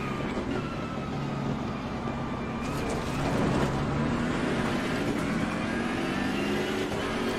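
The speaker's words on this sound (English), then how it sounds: "Sound is superb, all the little popping and whining." BMW M6 race car engine in the Assetto Corsa Competizione racing game, a continuous loud whining drone that rises in pitch, with small pops and crackles mixed in, heard close with no talking.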